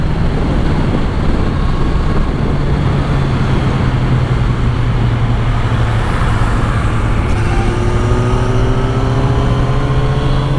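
A Kawasaki naked motorcycle drones steadily while riding along a highway at night, engine hum loud and constant under strong wind rush, with a rising tone as it pulls harder near the end.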